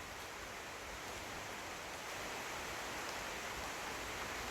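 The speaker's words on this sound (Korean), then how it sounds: "빗소리예요. 지금 진주에는 비가 오고 있고요." Steady, dense hiss of rain in Jinju, South Korea, an even wash of noise with no breaks, moderately quiet and constant throughout.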